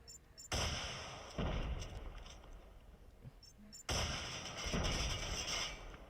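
Bomb blasts in the mobile shooter game Call of Duty Mobile, several heavy booming impacts spaced a few seconds apart over a rumbling game soundscape, fairly loud and close.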